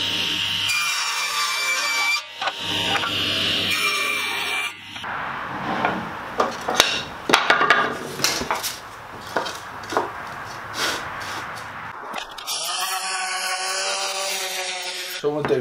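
Pallet wood boards fed through a table saw against the fence, cutting a groove in each board; loud buzzing cuts with a fairly steady rhythm, close by, with a quieter pause partway through.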